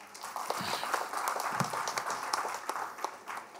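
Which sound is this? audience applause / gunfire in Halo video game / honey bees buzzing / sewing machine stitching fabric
audience applause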